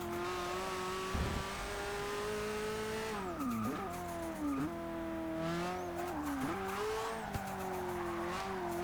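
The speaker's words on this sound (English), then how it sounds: "this is a really rather impressive race car" Race car in Forza Motorsport 6 with a spoiler and wide body kit, a loud high-pitched engine whine rising and falling through gear changes, with tire squeal and skidding through corners.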